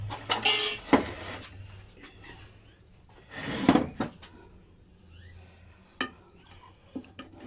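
Wood-fire roasted pork being cut into pieces, with a few close clattering knocks of knife and utensils on a board or dish, separated by quieter gaps.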